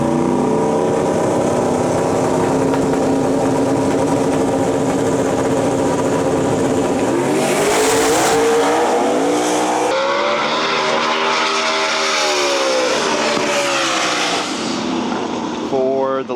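Drag racing cars roar down the strip during Q1 qualifying at Smoke, Fire and Thunder in Canada, loud continuous engine howl rising in pitch and sweeping past, with a second car's launch and crowd noise, no clear talk.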